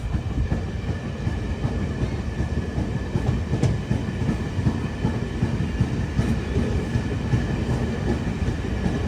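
A train between Ayodhya Dham and Faizabad rumbles along the rails at close range, reaching Acharya Narendra Dev Nagar station, with a steady low roar and faint rhythmic clatter throughout, no voices.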